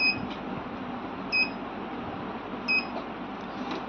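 Short electronic beeps from a gamma survey meter's low-battery alarm, sounding three times at about 1.3-second intervals, thin and high-pitched over a steady background hiss.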